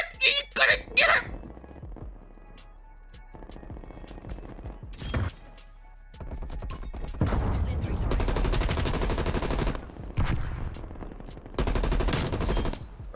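Automatic XM4 rifle fire in Black Ops Cold War, long loud sustained bursts with short pauses, preceded by a few sharp shots, with someone talking over the action.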